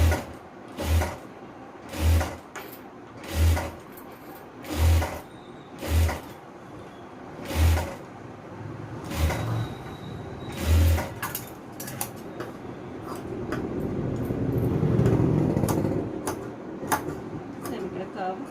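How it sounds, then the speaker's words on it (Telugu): A sewing machine stitching a simple frock, running in short regular bursts about every second and a half, then a longer steady run near the end, with someone talking softly over it. "ఇలా ఒక పావు ఇంచుకి సేమ్ ఇలాగే స్టిచ్ చేసేయండి."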